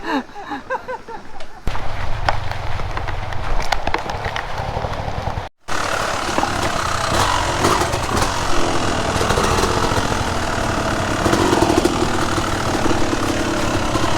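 Motorcycles run on a slippery downhill mountain trail, their engines droning loudly and steadily with rough, bumpy mechanical noise, and a short break partway through before the engines resume.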